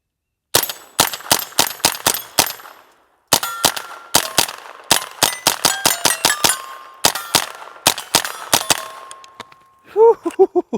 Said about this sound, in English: let's close out the video with a little bit more shooting. I'm running still the CCI high velocity clean, and let's put some more rounds on target